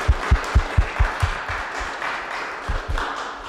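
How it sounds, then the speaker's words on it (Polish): An audience at a lecture on anthropology, self-organisation and social enthusiasm applauds the speaker. The claps come in a regular rhythm that fades in the middle and then picks up again briefly. "proponuję, by jeszcze raz podziękować oklaskami naszemu znakomitemu prelegentowi"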